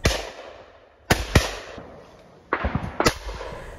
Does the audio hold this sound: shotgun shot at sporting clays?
yes